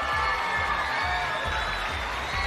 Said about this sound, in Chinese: 从这一片尖叫和掌声中